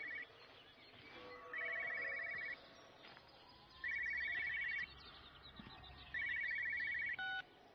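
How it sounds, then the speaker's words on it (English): A telephone rings in Everybody's Gone to the Rapture, three bursts of electronic trilling at steady intervals with quiet ambient gaps between, plus a brief final chirp. "Caravan, I can hear another phone ringing."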